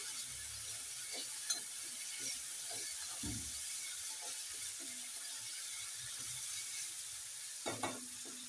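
Dal soaked for half an hour dropped into a hot frying pan, giving a soft continuous sizzle with occasional scraping stirs and clinks of a spoon, faint and close.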